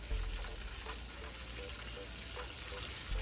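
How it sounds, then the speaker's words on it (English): Large chunks of brown or white onion fry gently in vegetable oil over low to medium heat, giving a steady, soft crackling sizzle with faint occasional stirring. "heat 2 tablespoons of vegetable oil on a low to medium heat and add 1 small brown or white onion cut into large chunks"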